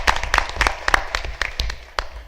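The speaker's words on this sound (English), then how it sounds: "you can clap, let's go." An audience at a school board meeting claps to honor a student athlete. The clapping is irregular and fairly sparse, from a modest crowd, and lasts a couple of seconds with no speech over it.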